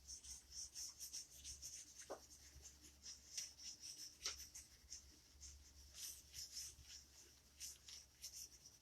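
A pencil is rubbed back and forth on paper for shading, making a quiet, close, steady rhythmic scratching with regular strokes and a couple of sharper ticks, with no talking.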